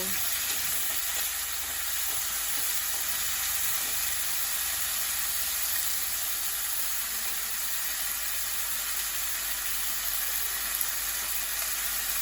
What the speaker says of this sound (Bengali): আলুটাকে 3-4 মিনিট ফ্রাই করে নেব